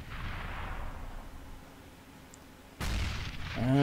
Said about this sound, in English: that grenade was only a couple whiskers away from absolutely slaughtering Zend